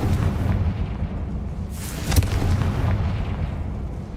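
A Confringo spell explosion from the Hogwarts Legacy video game bursts with a sharp crack near the middle, set against a continuous low rumbling game ambience that swells before and after the blast.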